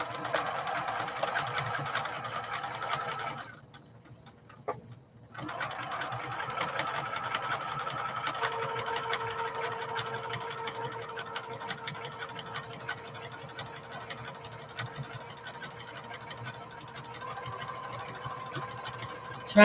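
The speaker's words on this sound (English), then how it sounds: "Trying to sew it on the edge." A sewing machine stitching along the edge of a fabric headband, running steadily in a close mechanical whir with one brief pause near the start, then continuing without interruption.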